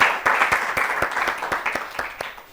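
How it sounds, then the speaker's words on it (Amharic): Steady applause from a studio audience for a schoolgirl contestant on an Ethiopian children's TV quiz, dense overlapping clapping with distinct sharp claps, fairly loud at first and gradually tapering off. "ለራኪብ በደንብ አድርጋችሁ አጨብጭቡላት።"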